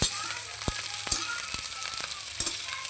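Shrimp and onion sauté in a hot pan for cabbage with shrimp, giving a steady close sizzle broken by a few sharp clicks and knocks of utensil on metal.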